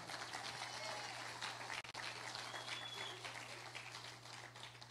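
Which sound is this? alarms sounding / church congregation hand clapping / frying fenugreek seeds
church congregation hand clapping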